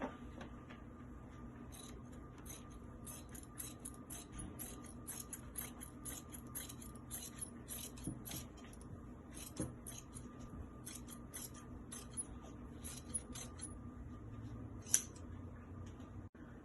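Scissors cut fabric for a cowl kaftan, the blades snipping in repeated short bursts, close and quiet over a faint background hum.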